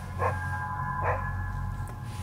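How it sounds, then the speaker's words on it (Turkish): A small dog gives two short, high yaps spaced about a second apart, moderately close, over a constant low hum inside an old house said to have belonged to a miner. "aa küçük bir köpekmiş"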